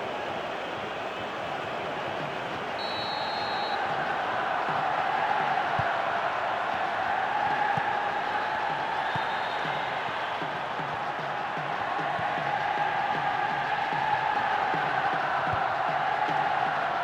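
A capacity stadium crowd roars steadily in the PES 2011 football video game, a dense continuous wash of cheering and chanting that holds at a loud, even level throughout with no pauses.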